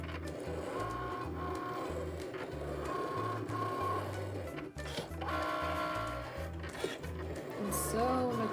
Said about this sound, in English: I have got 3-inch circles that I'm going to be cutting out on the Cricut